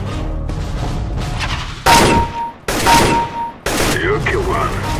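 Repeated gunfire bursts from Counter-Strike: Global Offensive (CSGO), loud, sharp and close, firing in several clustered volleys with brief gaps between them.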